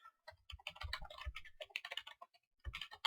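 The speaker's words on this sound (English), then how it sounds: "my computer's not keeping up with my typing" Someone types quickly on a computer keyboard, producing quiet, irregular bursts of close key clicks with short pauses between runs of keystrokes.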